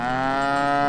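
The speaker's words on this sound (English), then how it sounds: "the one that's screaming like crazy" A mother cow with calves on an alpine meadow near Kühtai, above Innsbruck, lets out a loud, close, drawn-out moo that fills the whole moment with a steady, strained bellow and no talk.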